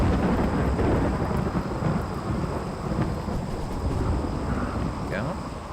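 Steady heavy rain with low rumbling thunder fills a RimWorld colony scene, loud and continuous throughout with no break.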